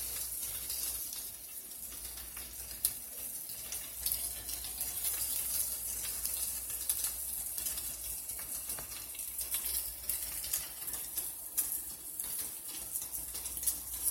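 Turkey bacon sizzles in a hot pan with a steady, bright hiss and scattered small crackles and pops throughout, with no voices.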